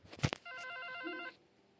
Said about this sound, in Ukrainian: Телефонний дзвінок.